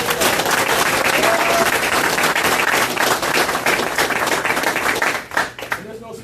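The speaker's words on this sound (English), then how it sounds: "Can we give them a round of applause?" Dense, sustained applause from an audience at a political rally, with loud continuous clapping that fades toward the end.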